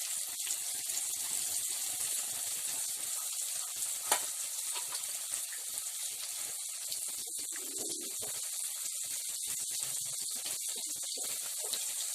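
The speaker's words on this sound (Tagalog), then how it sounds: "once na nagdi-deep fry kayo, once na nag-golden brown na siya, ibig sabihin, luto na po siya." Stuffed ampalaya, bitter melon filled with meat, deep frying in hot oil, giving a steady close hiss of bubbling sizzle that runs evenly throughout with no talk.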